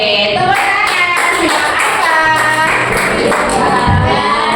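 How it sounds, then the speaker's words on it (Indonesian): Elementary school pupils in a classroom applaud together, a dense, steady clatter of many small hands that stays loud throughout, with young voices mixed into the clapping. "Oke, tepuk tangan."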